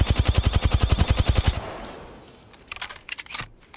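Rapid automatic gunfire in a video game during a recoil test, a fast even burst of roughly twenty shots lasting about a second and a half, then a fading tail and a few scattered clicks, with no talk.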